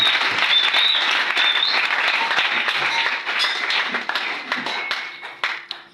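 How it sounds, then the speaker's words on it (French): Church congregation applauding after singing at a French-language service led by pastor Arnaud Biaho, loud sustained clapping from many hands nearby that thins out and tapers toward the end. "Acclamez pour vous-même."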